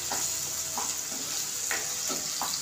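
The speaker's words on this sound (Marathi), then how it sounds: "आणि याला चांगली परतते." Cashew and potato curry paste fries in oil in a home kitchen pan, giving a steady close sizzle with a few soft stirring scrapes spaced through it. No one speaks.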